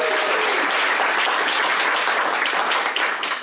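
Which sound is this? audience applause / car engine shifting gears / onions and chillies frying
audience applause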